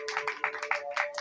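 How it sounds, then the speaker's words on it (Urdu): A church congregation claps together during a Tuesday sermon service, a quick, steady run of crisp hand claps of moderate loudness with a faint sustained tone beneath. "دیدی کے لیے زوردار تالیاں بجائیں گے."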